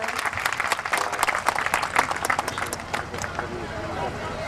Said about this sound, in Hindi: आप सभी से अनुरोध करूंगा जोरदार तालियां उनके सम्मान में बजाएं